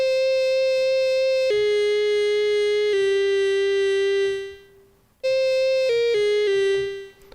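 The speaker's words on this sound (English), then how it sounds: "So the arpeggio without any modulations sounds like this." An Arturia MatrixBrute synthesizer arpeggio without modulation steps through sustained, buzzy tones that shift pitch every second or so, cuts out briefly, then returns with quicker note changes, loud and up front.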